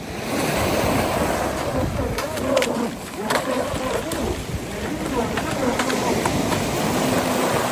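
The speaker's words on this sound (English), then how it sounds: "beautiful sea, real nice little waves" Waves wash and surge continuously with wind buffeting the microphone and a voice talking over the surf.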